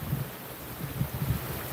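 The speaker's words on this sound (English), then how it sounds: "Sorry about the wind." Gusty wind blowing outdoors at a riverside homestead in Colorado on a hot day, a broad steady rush with low buffeting thumps against the microphone, no voices.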